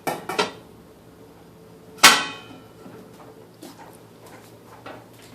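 A metal pot holding a couple of inches of water is set down on a stove with a sharp clang, preceded by a few lighter knocks and followed by faint handling noises.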